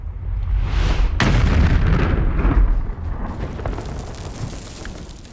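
A WW1 mine blast at Gallipoli: a sudden deep boom after a low rumble, followed by a sustained roaring, crackling rumble of debris that slowly fades but stays loud.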